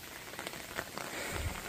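Steady light rain patters on leaves and an umbrella during a morning forest walk, a soft continuous hiss with scattered drops and no voices.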